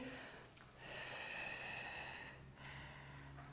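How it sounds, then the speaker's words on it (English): Steady audible breathing during a yoga flow session, a long drawn inhale-exhale held for a couple of seconds, then a brief pause and another breath, moderately close with a faint background hum. "Breathe."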